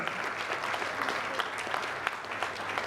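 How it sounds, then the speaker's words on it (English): An audience at a meeting with the creative industry applauds steadily, a dense, even wash of clapping from many hands that holds at a constant level throughout. "another round of applause to Atiku Abubakar"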